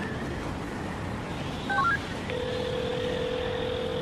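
Telephone keypad tones from an animated My Little Pony special: a quick run of short beeps from someone dialing, followed by a long, steady ringback tone over a faint background hum.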